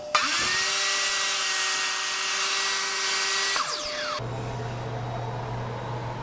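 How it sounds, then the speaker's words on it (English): A miter saw cuts plastic side skirts for an Arrma Felony RC car. The motor whines loud and steady for about four seconds, then spins down, leaving a low hum. "I think I'll use the miter saw to do that"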